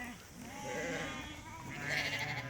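Sheep and their lambs bleat in a livestock pen with wavering, nasal calls close by, while someone talks over them.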